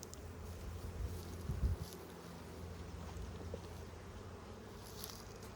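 Honey bees in an opened hive make a soft, continuous buzzing drone with a faint, even hum throughout and a slightly louder swell near the middle.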